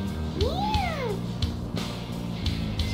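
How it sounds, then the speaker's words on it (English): A single cat meow from the video game Tokyo Twilight Ghost Hunters, a clear rising and falling cry over quiet background music. "Oh, it's so cute, a kitty! I love cats."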